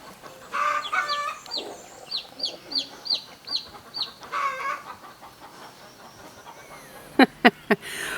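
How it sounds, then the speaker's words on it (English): Chickens in a coop clucking while laying eggs, a run of repeated squawking clucks near and fairly loud, ending with a few sharp, louder calls. No one talks. "We got chickens in the coop making noise because they're laying an egg"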